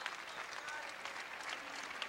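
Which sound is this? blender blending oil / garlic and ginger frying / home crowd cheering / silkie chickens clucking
home crowd cheering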